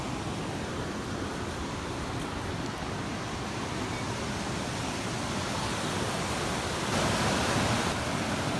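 A river flows below a zip line on the Appalachian Trail, a steady broadband rush that is constant throughout and swells slightly louder near the end, with no voices.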